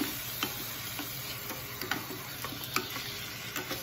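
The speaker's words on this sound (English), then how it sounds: "let me stir it up real good" Salsa being stirred into chicken and rice in a pot, soft scraping spoon strokes and light clicks against the pot repeating every half second or so over a quiet sizzle.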